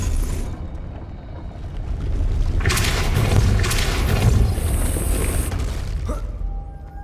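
The Depulso spell effect in Hogwarts Legacy, a deep booming burst that swells into a rumbling, crackling blast lasting a few seconds before settling, loud and close with no voices.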